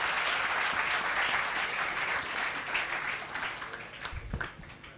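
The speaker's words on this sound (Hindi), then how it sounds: "तालियां बजवा दीजिए एक बार जोर से" A conference hall audience at an ICAI business event breaks into loud, dense applause that holds steady, then tapers and becomes more scattered near the end.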